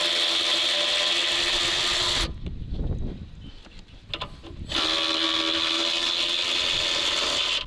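Mechanical work on a Bosch headlight of a Hanomag 44D loader, with rubbing, clicking and ratchet-like sounds, loud and close, and a quieter stretch of knocks and handling in the middle.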